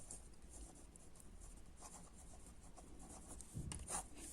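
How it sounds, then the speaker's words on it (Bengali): Pen writing an Italian verb by hand on paper: faint, continuous scratchy strokes with light rubbing, very quiet and close, with no talking. "তো প্রথমে আমি একটা রেগুলার ভার্ব লিখি, যেমন ভার্ব পারলারে।"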